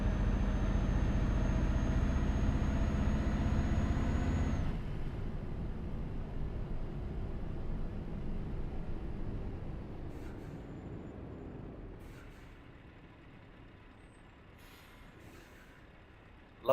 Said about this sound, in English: Love the sound of those air brakes.